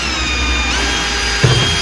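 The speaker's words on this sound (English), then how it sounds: "we'll drill these with a 4mm drill bit" A power drill with a 4mm bit bores holes into a plastic van front splitter, a steady close whine holding level throughout with a small bump near the end.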